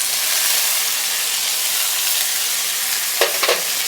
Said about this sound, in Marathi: हे कांदा टोमॅटो आपल्याला चांगलं परतून घ्यायचे.